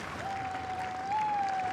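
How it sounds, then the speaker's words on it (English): Crowd applause at the Henley Royal Regatta rowing semi-finals, a steady wash of clapping from a distance that swells slightly near the end, with a faint tonal hum underneath. "As we can hear the applause of the crowd."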